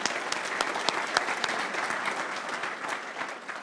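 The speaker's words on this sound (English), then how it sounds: "I think it's with a round of applause" A round of applause from an audience at a property industry event, dense steady clapping heard from a distance at low volume, carrying on without talk.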